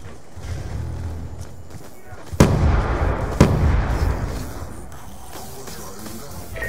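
A frag grenade detonates in a Black Ops 2 Hardpoint match on the Plaza map, a loud sharp blast followed by a second burst and rumbling tail over a busy background of game noise.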